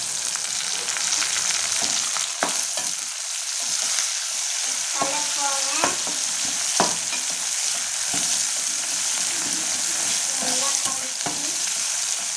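Small tomatoes sautéing in a hot pan, with a continuous bright sizzle and occasional scraping stirs of a spatula throughout, close and steady.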